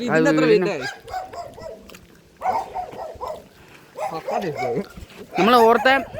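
A dog barks and yips in short bursts at a distance, mixed with people talking nearby in an outdoor setting.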